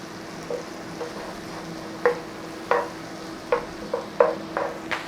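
Onions with a pinch of salt fry in a pan with a low steady sizzle, punctuated by about eight sharp stirring scrapes at uneven intervals, close and clear with no talking.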